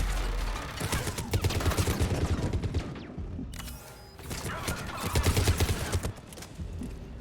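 Mass Effect 3 gameplay with dense, sustained gunfire: rapid bursts and volleys of shots layered over one another, loud and continuous apart from a short lull in the middle.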